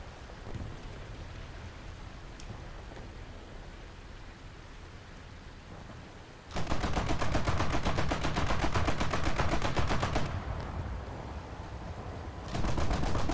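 Naval guns fire from a warship in a video game, a dense rapid rattle of shots that starts abruptly, runs for several seconds, pauses briefly and resumes, over a constant rumbling background.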